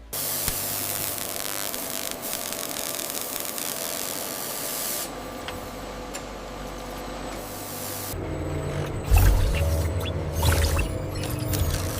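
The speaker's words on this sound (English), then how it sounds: "Our automated robotic spray systems apply the crystal clear protective coating, instantly hardened by UV lamps for enhanced durability." An automated robotic spray system applies a clear protective coating in a slab factory, a steady hissing spray over machine hum, changing in character partway through with a few louder mechanical knocks near the end.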